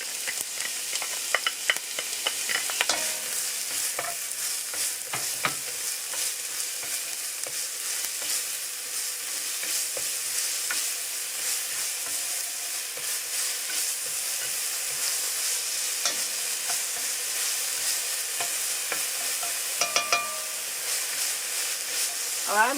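Onions sautéing in a small amount of olive oil give a steady, close sizzle with soft stirring scrapes, continuing evenly without talk.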